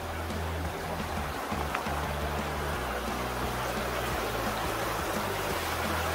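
Water rushes in a stream inside the Honeycomb Caves at Mole Creek, a steady, dense and fairly loud wash of noise that fills the space without pause.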